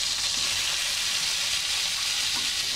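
A tablespoon of flour roasts in melted butter in a pan over a low flame for garlic bread, giving a steady, close, soft hiss and sizzle with no talking.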